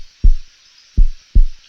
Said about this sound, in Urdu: علی کا دل زور زور سے دھڑکنے لگا